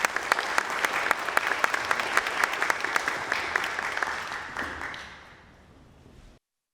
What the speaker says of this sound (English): Can we have a very warm round of applause for Mr. Riley?